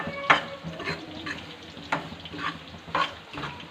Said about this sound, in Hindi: सूजी को अच्छे तरीके से हमने भून लेना है।